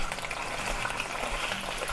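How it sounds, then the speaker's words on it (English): Teriyaki chicken pan-fries with a dense, even crackle and bubbling sizzle, close and constant throughout. "And so pan fry 1 to 2 minutes"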